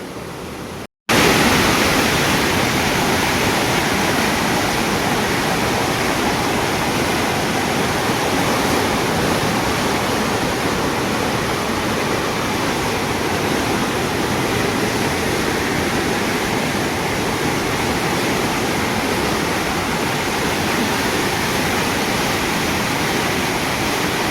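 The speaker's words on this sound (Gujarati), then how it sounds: "કેટલું પ્રેશરથી પાણી જતું છે આમ તો જુઓ" Steady, loud roar of floodwater from the overflowing Moj dam and river fills the whole stretch without a break, a dense broadband wash like a torrent surging past nearby at a broken causeway.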